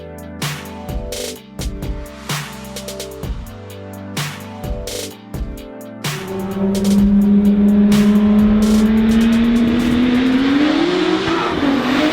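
A manual BMW E90 M3 with a loud exhaust rumbles and burbles through gear changes, then revs up into a sustained, rising engine drone heard close from inside the car, with no talk.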